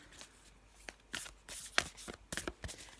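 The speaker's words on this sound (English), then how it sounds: "Just going to have a little shuffle of our spirit animal deck" Spirit animal oracle cards being shuffled in several quick riffling bursts, crisp and close, with short pauses between them.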